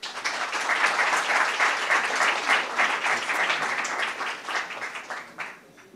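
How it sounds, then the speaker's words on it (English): A conference audience at the 10th Yi National Summit in New Delhi gives Kiran Karnik a warm round of sustained clapping that tapers off near the end. "Friends, a very warm round of applause for Mr."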